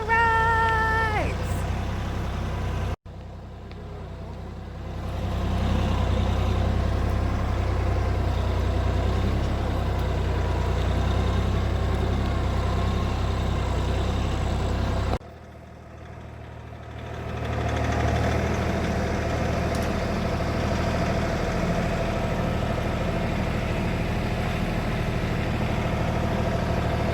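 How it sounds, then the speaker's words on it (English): A low, steady engine rumble runs throughout, dropping out briefly twice before rising again, with faint voices and a few high chirps early on. "Tractor rides!"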